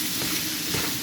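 Pork afritada stirred in a pan, a steady sizzle and hiss with faint scraping as the mixture is moved, close and continuous, no talking.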